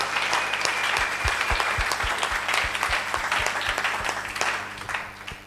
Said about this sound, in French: Acclamons d'abord pour le Seigneur.